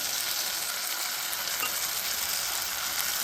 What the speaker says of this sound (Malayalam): അപ്പൊ നമ്മൾ കുക്കറിൽ വേവിച്ച് വെച്ച കഷ്ണങ്ങളൊക്കെ ഇതിലിടാൻ പോവാണ്